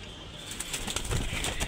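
Restless short-face pigeons at a pigeon farm flap and shuffle in a faint, busy patter of soft wingbeats and rustling, with no voices.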